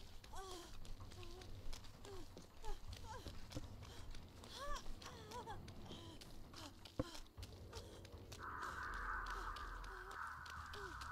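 Several crows caw repeatedly in harsh bursts, near and far, over footsteps and ambient noise, with a steady hiss rising near the end, in the video game Dead by Daylight.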